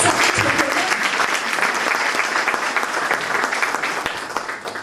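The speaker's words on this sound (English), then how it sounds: "and applause for her" Seminar audience applauding, a dense, loud burst of clapping that runs throughout and slowly tapers toward the end.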